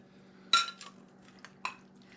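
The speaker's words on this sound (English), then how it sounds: "I'm just gonna kind of stir it up" A spoon clinks against a pot while stirring a salt-and-pepper seasoned beef bourguignonne mixture, a few sharp metallic knocks and scrapes spaced out over a quiet background.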